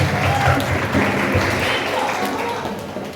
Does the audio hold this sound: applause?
yes